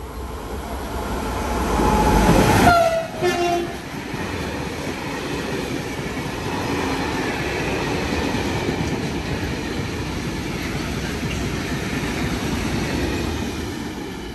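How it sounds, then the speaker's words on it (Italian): A train rushes through the station at Anzola Emilia in Italy, a loud passing roar peaking in the first few seconds with a brief wheel squeal, then a steady rolling rumble that continues to the end, with no talk. "Treno in transito al binario 2, allontanarsi dalla linea gialla."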